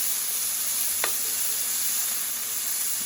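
Chicken sizzles steadily on a hot grill, a dense continuous hiss heard close up with one brief tap partway through and no voices.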